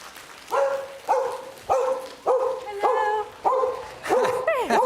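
Freya, a dog on stage at a lecture, gives a run of about eight whining yelps and barks, evenly spaced roughly every half second, close and fairly loud.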